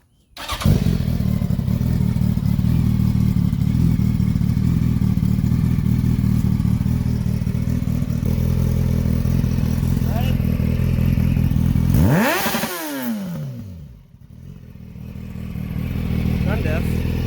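A Yamaha FZ1 motorcycle engine with a slip-on exhaust idles loudly and steadily with a deep, throaty exhaust note, nearly cold, then revs up and drops briefly before settling back to idle.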